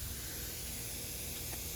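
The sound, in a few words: Buckner rocker jet sprinkler spraying water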